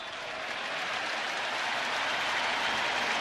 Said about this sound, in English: And now the crowd coming to life